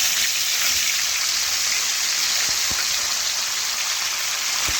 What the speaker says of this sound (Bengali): এখন সবার প্রথমে মাছের চাকাগুলো আমি কড়ার মধ্যে দিয়ে দিচ্ছি।